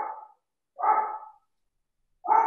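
A dog barks three times in short, evenly spaced bursts with silence between them, heard at moderate volume during an online coaching session.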